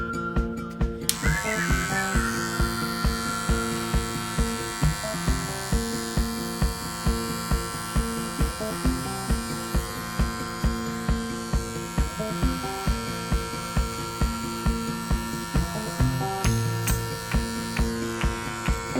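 An electric hair trimmer buzzes steadily while cutting a man's hair, a close, continuous motorized hum with regular rhythmic pulses as it moves through the hair.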